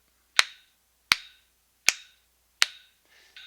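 Four sharp, evenly spaced claps or snaps ring out in a trumpet practice setting, each bright with a quick decay, followed by a faint softer sound at the end.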